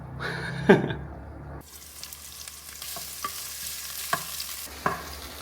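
Onions and tomatoes sauté for sinigang, with a brief loud stirring clatter and sizzle at first, then a softer steady frying hiss punctuated by a few light utensil taps against the pan.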